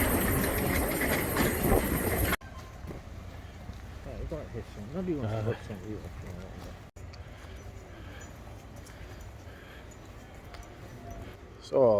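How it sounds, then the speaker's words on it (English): A small railway train runs through a country park during a vintage vehicle rally, loud at first then cutting away to quieter rumbling, with people talking nearby. "It's the railway."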